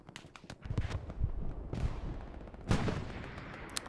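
Scattered gunshots crack out in the Hell Let Loose video game, a few sharp reports spread across the clip with one louder burst near the end, mid-distance over a steady low rumble of battle.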